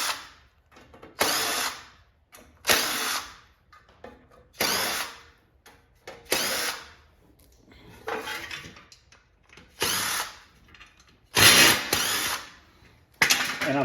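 A power drill backs screws out of a Tapper arcade cabinet, about nine short whirring bursts spaced a second or two apart, fairly close and loud with brief quiet gaps between them and no talking.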